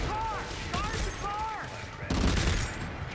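Gunfire in the Dead Space video game: a few sharp shots with whooshing game effects, a louder burst near the end, and a voice talking over parts of it.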